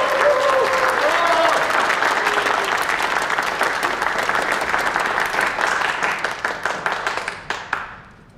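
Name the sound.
audience applause welcoming editor-in-chief on stage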